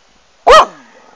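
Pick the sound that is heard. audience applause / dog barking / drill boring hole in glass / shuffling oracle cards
dog barking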